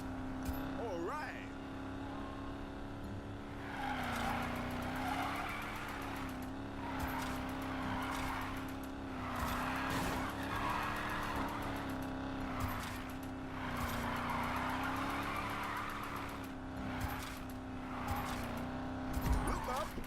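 A car drifts through the Need for Speed Payback video game with a sustained engine drone and repeated tire squeals, while a player talks over it throughout.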